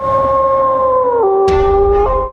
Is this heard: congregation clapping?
no